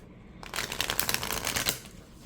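A deck of card-stock playing cards is riffle shuffled once, a quick burst of rapid fluttering clicks lasting about a second after a short silence, close and fairly soft, then a settling rustle.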